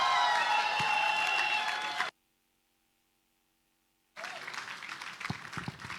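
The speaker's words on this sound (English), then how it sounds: "Ladies and gentlemen, with a clap, a shout, let's make welcome Coach Ebuka." An audience at the TIP Summit PH 2024 claps and calls out to welcome a coach on stage. The dense applause cuts off into two seconds of dead silence, then resumes just as loud.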